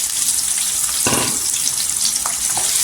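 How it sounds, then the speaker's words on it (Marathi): Sliced onions fry in oil in a cooker pan for Maharashtrian soybean pulao, a loud, dense sizzling hiss throughout, with a short burst of stirring or added moisture near the middle. "इथे तेलावर परतायचं।"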